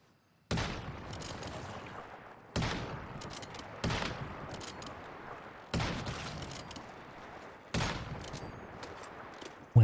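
Gunfire in the survival shooter Once Human, five sharp heavy bursts spaced about a second and a half apart, each a loud crack trailing into a rumbling decay, fired close and without talk.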